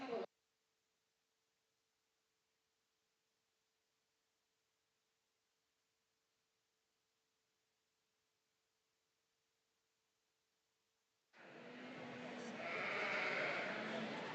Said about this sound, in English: these are Dorset Ewes.